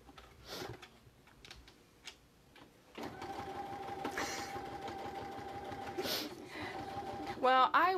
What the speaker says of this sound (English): make sure it stops sewing before you lift it